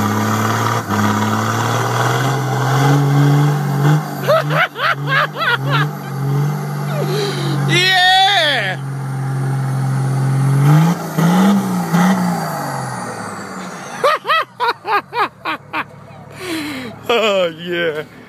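A Nissan SD33Ti diesel vehicle getting bogged, its engine droning low then revving hard in repeated bursts and strained surges, loud and close, with people talking and shouting over it.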